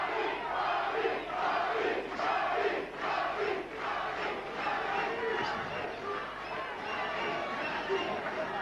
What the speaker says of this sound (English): And a chant of Bobby.